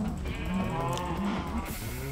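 Several cows in the Minecraft video game moo repeatedly in low, drawn-out calls that overlap one another, clear and close against a steady background.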